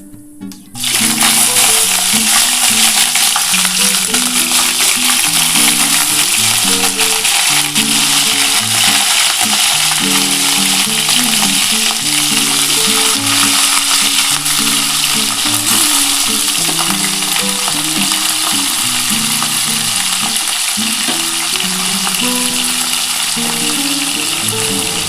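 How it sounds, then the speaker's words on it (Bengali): Potato and cauliflower pieces frying in a pan produce a loud, continuous, close-up sizzle that starts abruptly and holds steady for the whole stretch, with no talking. "আমি এইটা আলু আর ফুলকপিটা একটু ভালো করে ভেজে নেব।"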